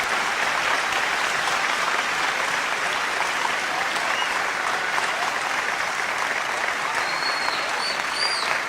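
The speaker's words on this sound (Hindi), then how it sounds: "एक बार जोरदार तालियां बजा के" Dense, sustained applause from the audience at a Hindi-Urdu poetry recital, a steady roar of many hands clapping at once that stays loud and even from start to finish, with no voices above it.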